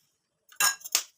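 A metal spoon clinks twice against a container while glycerin is added and mixed into a homemade skin serum, short bright taps close by after a moment of silence.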